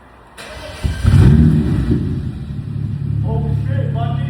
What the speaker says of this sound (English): we have to do a startup with the exhaust off